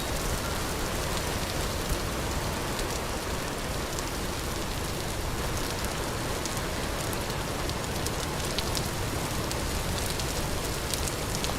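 Heavy rain in the survival game Vintage Story, a loud, dense, steady downpour with constant patter spread across the whole clip and no voices.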